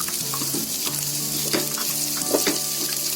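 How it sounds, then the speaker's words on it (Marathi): Sliced onion, carrot and capsicum fry in a pan, a close, constant sizzle with occasional soft clinks and scrapes as the vegetables are stirred, and nobody speaks. "हे चांगले आहे ना थोडे फ्राय करून घ्यायचे"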